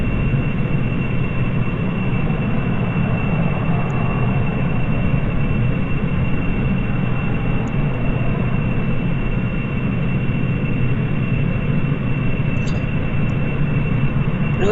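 Constant, loud, broadband engine roar of a damaged airplane missing a wingtip in flight in the video game Interstellar Quest 2, a steady drone with a thin high whine and no talking.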